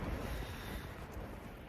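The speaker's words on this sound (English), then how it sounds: "It is gusty, it's not constant, but bloody hell." Strong gusts of wind roar continuously against a tent at a wild camp in the Lake District, a loud, broad rushing with no speech.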